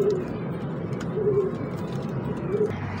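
Pigeons coo in soft, low repeated phrases, three short bouts spaced about a second apart, over a steady hum of background noise.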